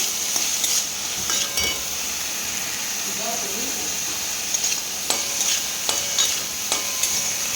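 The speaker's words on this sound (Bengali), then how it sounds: "তারপর এটা ভালো করে লাল করে ভেজে" Green banana peel fries in a wok, a steady close hiss of sizzling oil running throughout, broken by occasional sharp clicks and scrapes of a spatula stirring.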